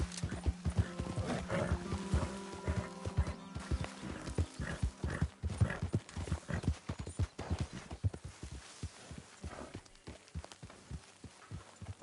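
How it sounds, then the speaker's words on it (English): Horse hooves clip-clop in a steady rhythm in Red Dead Redemption 2, with a whinny early on and low thudding steps, fairly close and moderately loud with no talk over them. "Get that horse out of here"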